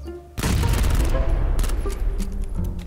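A Vector submachine gun fires a rapid, loud burst in a shooting video game, with an excited voice heard over the gunfire.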